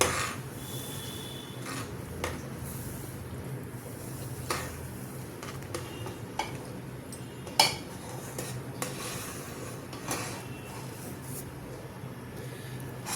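Semolina is stirred into a metal pan with saffron for rava kesari, a spoon scraping and clinking against the pan in uneven strokes, with occasional sharper knocks over a soft background.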